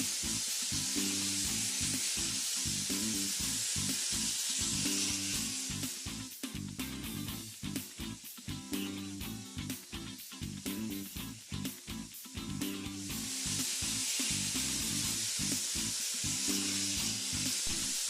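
An abrasive blasting nozzle sprays Australian garnet onto a metal surface, making a loud, continuous broadband hiss that fluctuates slightly as the nozzle moves, over a rhythmic low backing beat.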